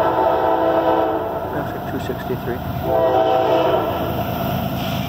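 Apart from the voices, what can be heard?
CSX intermodal freight train passing with horn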